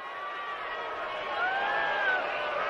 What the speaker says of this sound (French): Écoutez cette foule.